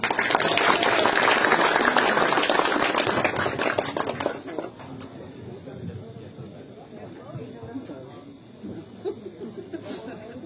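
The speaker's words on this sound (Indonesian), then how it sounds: "Tepuk tangan." Audience applause at an Indonesian cultural discussion event, loud dense clapping for about four seconds that thins into scattered claps and murmuring, with voices and light laughter continuing afterward.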